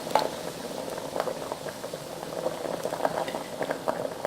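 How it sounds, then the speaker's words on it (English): Water boils in a pot for dumpling soup, making a continuous low bubbling with soft irregular pops close by, with no talking. "It has to come to a boil."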